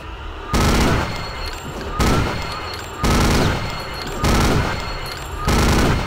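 Gunfire in Real Time Gate, fired in five short, evenly spaced bursts about a second apart, loud and close with a sharp attack and a decaying tail after each burst.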